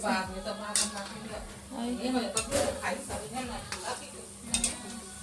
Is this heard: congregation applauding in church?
no